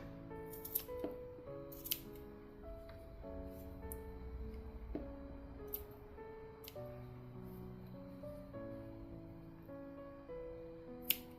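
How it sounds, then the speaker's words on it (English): Scissors snip the yarn ends of a crocheted keychain, a few faint, quick cuts heard close and quiet over soft background music. "you can trim the ends here to just make it look a little tidier"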